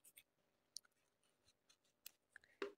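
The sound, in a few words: scissors cutting crochet yarn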